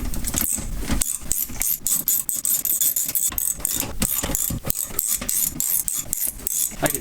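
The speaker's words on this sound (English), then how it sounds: "I love the sound of this ratchet." A ratchet wrench clicks in quick repeated bursts while a car dash is removed from a Nissan Skyline, loud and close with short pauses between strokes.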